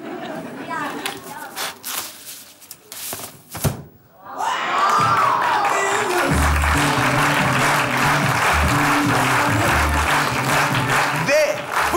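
A studio audience at a children's comedy magic show claps for a woman, beginning with a few thumps and talk, then swelling into loud, sustained applause as music plays underneath.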